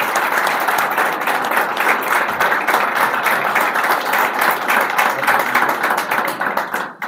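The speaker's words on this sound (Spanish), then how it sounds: "Un fuerte aplauso para todas las mujeres." An audience at a political speaking event breaks into loud, sustained applause, a dense patter of many clapping hands that holds steady for several seconds before starting to thin out at the end.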